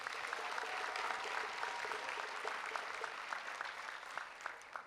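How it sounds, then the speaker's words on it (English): Applause from the crowd at a university commencement ceremony, many hands clapping steadily and fairly distant, tapering slightly toward the end. "One more round of applause for Sam."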